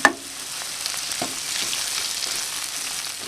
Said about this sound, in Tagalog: Then ngayon maluluto na itong ating onions.